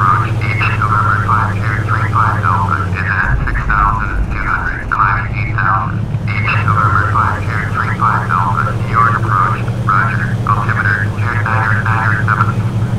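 Twin piston engines of a Grumman Goose amphibian drone in a flight simulator, a steady loud low hum whose pitch shifts briefly as the propeller setting is adjusted, with someone talking over it throughout.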